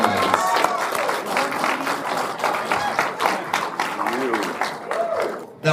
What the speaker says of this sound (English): Guys, I want everybody to give a huge round of applause for Carey Means